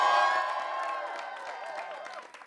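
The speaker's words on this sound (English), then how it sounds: "Cheer your loudest for whoever you think won." A studio audience cheers and whoops together, a short burst of crowd noise that tapers off, with no talking over it.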